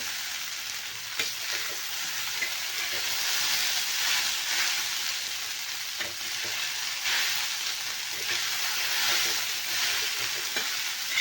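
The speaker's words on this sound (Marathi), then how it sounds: "आपल्याला चांगलं परतून घ्यायचं आहे याला खालीवर करून बघा" Food is stirred and sautéed in a hot pan, frying with a steady, close sizzle and intermittent stirring scrapes.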